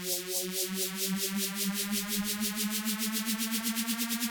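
A synth riser made in the Vital synthesizer, run through a phaser filter with LFO movement, sweeps in a rapid, regular pulsing pattern over a steady rising tone, bright and continuous throughout.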